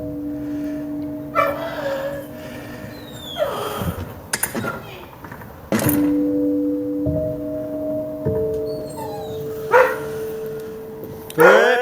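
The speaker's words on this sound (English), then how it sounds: "Don't mind my dogs." Several dogs bark, yip and whimper near a backyard, in short, irregular outbursts mixed with people talking.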